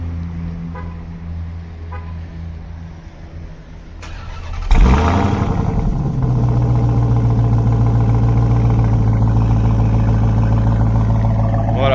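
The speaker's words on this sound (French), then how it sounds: "Si je presse 2 fois sur ce petit bouton, on va avoir le démarrage à distance du véhicule." A tuned Dodge Charger Hellcat Widebody with around 888 hp fires up by remote start with its exhaust valves closed, a loud starter whir and bark settling into a deep, steady, rumbling idle after a quiet lead-in.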